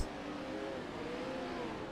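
A Pro 4 off-road race truck's engine drones steadily at a distance, a sustained broadband roar with a faint rising pitch, heard alone without talk.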